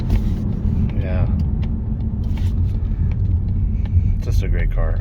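A 2023 Mazda 3 2.5 Turbo AWD drives along with a steady low rumble of engine and road noise from inside the cabin, while a voice talks intermittently over it.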